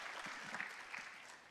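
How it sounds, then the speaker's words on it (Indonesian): A congregation at an online church service claps for three people, a soft, brief burst of scattered applause heard from a distance. "berikan tepuk tangan buat mereka bertiga"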